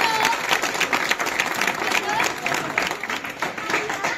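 A crowd at a rural night gathering applauds to welcome a former legislator, sustained, dense clapping that fills the space, with voices mixed in.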